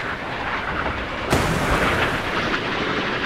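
A close-in defence weapon aboard a warship in the naval combat game Sea Power refires: a sudden sharp blast cuts through a steady roaring wash of battle noise, followed by continuing rumble and no speech.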